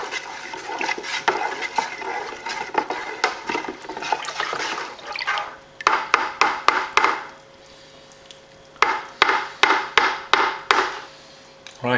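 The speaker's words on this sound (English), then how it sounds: "Give it a good stir." Ribena wine ingredients stirred in a vessel, a close sloshing swirl followed by bursts of rhythmic knocking strokes with a short pause between them, no voices.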